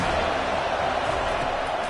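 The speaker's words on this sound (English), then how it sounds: "This crowd trying to make life miserable for this offense." A college football stadium crowd roars steadily during a Florida State versus Georgia game, with a dense, continuous wash of noise under the play-by-play commentary.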